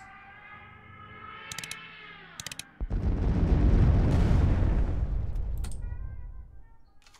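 The Daylight Bombing card in the KARDS card game sets off a deep, rumbling explosion that swells after a few short clicks and interface tones, then fades away over several seconds.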